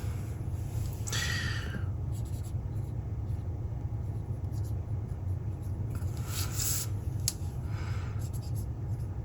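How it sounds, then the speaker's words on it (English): Labels being handwritten on vintage and replica guitar parts such as a jack plate, short scratchy pen strokes in separate bursts over a steady low room hum. "I gotta write on here what they are"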